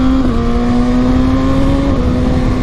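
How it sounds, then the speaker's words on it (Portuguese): A Kawasaki ZX6R motorcycle engine held at a steady high rev, a loud continuous droning whine close by with a slight dip in pitch midway, with no talking. "Vê a motoca grita, viu?"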